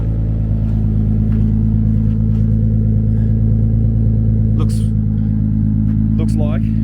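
Lowered drag car engine idling in a steady, deep, even rumble close by, with a few brief sharp noises late on and speech-like sounds over it.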